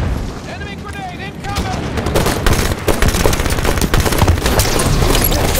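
Grenade explosion and rapid gunfire in the video game Halo 5 arena slayer on the Eden map, with dense, loud bursts of shots and booms building over several seconds while game announcer voices and chatter sound underneath.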